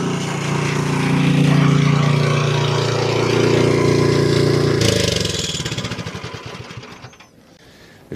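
A Toro snowblower engine runs loud and steady at close range for several seconds, then sputters with uneven firing pulses before dying down near the end.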